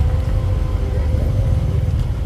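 Several Hino trucks arrive at night at a roadside tanker-truck recovery site, a steady low engine rumble running throughout at close range, with a faint voice in the background.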